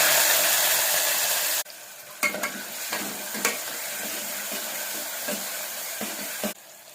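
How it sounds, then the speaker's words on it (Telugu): Garlic and chopped onions hit hot oil for a gourd curry tempering, starting with a loud, steady broadband sizzle that suddenly drops to a softer, continuous frying hiss punctuated by scattered stirring clicks. "వెల్లుల్లిపాయలు వేసుకున్న తర్వాత కట్ చేసుకున్నటువంటి ఉల్లిపాయలు కూడా వేసుకోవాలి"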